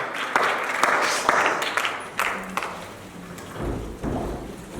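A church congregation applauding after the call to praise the Lord, a rapid scattered patter of many hands clapping close by that slowly thins and fades into room murmur.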